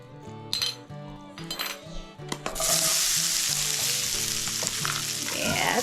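Food dropped into hot bacon grease in a pan, with clinks of a utensil and pan first and then a loud, steady sizzle of frying that keeps going, close up and with no talk.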